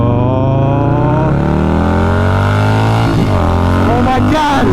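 A Harley Davidson 131 motorcycle engine rated at 150hp revs loud and close, a thick continuous roar that swells and climbs in pitch toward the end, with possible voices faintly underneath.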